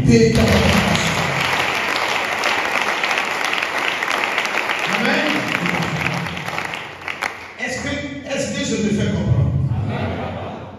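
A church congregation applauds steadily through most of the stretch, a broad clapping wash with voices and a few cheers mixed in, fading briefly before swelling again.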